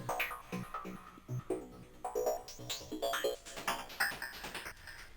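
A psytrance synth line pulses in bright, rhythmic stabs while an LFO sweeps its filter cutoff, making the tone open and close repeatedly; a busy, loud, close electronic texture with no voices.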